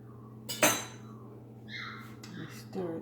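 A spoon stirs about two cups of carrot sticks in a dish. One sharp metallic clink is followed by softer scraping and light clattering, close and fairly quiet.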